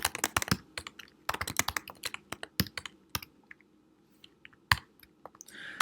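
Quick rattling runs of keystrokes on a computer keyboard while code is written, close and crisp, broken by short pauses and a few isolated taps, with no voices.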